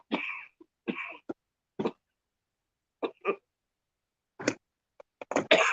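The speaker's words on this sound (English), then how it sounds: "I wish I could get rid of that cough." Several short, abrupt coughs come in separate bursts with pauses between them, fairly close, followed by a denser cluster of coughing at the end; there is no talk.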